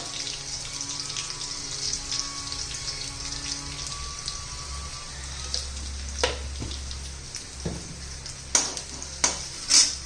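Green chillies fry gently in a pan over gas, giving a soft continuous sizzle with occasional scrapes and clinks of stirring that grow louder near the end.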